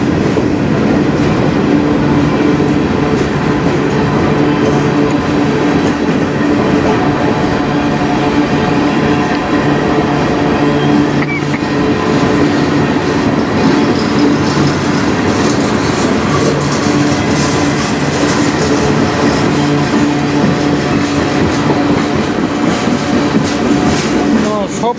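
A CN freight train rolls past on the Strathroy Subdivision in Sarnia, Ontario, a long train of some 600 axles, its steady rumble and clickety-clack of wheels loud and continuous throughout.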